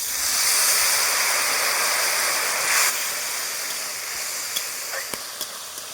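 Water pours steadily into a pan during cooking of a fish curry with raw tomato and small fish, a broad rushing stream that fades after a few seconds, followed by a few faint clinks.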